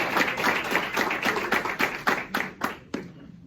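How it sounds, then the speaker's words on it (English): A small audience at a periodization seminar claps for a presenter in a room, a few distinct close hands over a brief burst that thins out and stops after about three seconds. "So give him a round of applause."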